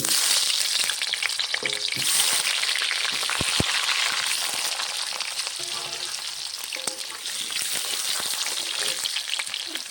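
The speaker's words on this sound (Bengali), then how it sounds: "দিয়ে দিচ্ছি সর্ষের তেল, কেটে ধুয়ে রাখা আলু" Cut, washed potatoes drop into hot mustard oil for a Bengali chicken kosha, and a dense, loud crackling sizzle carries on without a break, with faint stirring clicks.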